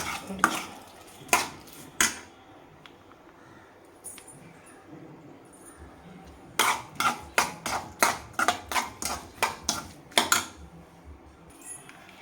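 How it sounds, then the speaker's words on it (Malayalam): Champaka pickle mixed in a vessel with asafoetida, garlic, curry leaves and oil, heard as sharp metallic spoon knocks against the pot, a few scattered at first, then a quick run of repeated clanks, close and loud over a quiet background. "കായും വെളുത്തുള്ളിയും കറിവേപ്പിലയും കടും എണ്ണയുമായിട്ട് നന്നായിട്ട് മിക്സ് ചെയ്ത്"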